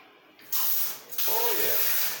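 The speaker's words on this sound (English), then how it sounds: "We'll check out the sprayer here." A handheld water sprayer in an apartment bathroom gives two close, loud hissing bursts, a short blast and then a longer steady spray.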